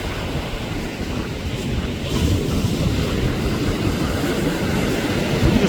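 Ocean waves crash on a beach in a steady, loud roaring wash that swells slightly, with no voices over it.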